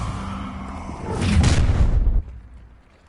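An Incendio fire spell cast in a Harry Potter video game: a short, loud whooshing burst of flame that swells for about a second and then cuts off abruptly.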